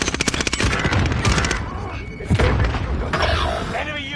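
Combat in Call of Duty Warzone as a frag grenade is thrown, a rapid string of loud gunfire bursts followed by heavy thuds and a booming impact.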